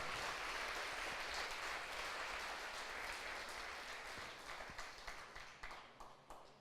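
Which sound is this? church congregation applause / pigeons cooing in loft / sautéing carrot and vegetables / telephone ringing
church congregation applause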